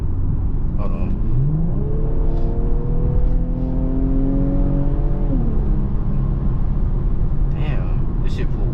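Infiniti Q50S turbocharged sedan accelerating hard on a highway, a loud steady engine drone rising in pitch through one gear then shifting, with constant road and wind roar throughout.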